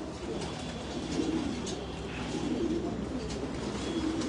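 Pigeons coo softly and repeatedly in a loft, their low, throaty calls overlapping against a constant background hiss, with no talking.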